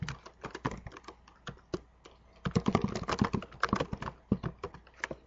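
Rapid, close keystrokes on a computer keyboard as a database command is typed, a dense irregular patter of clicks that quickens midway, with no talking.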